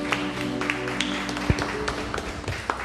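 Congregation applauding during a Sunday church service, a short burst of scattered clapping with a low hum and organ-like tones beneath, mid-level and fairly close.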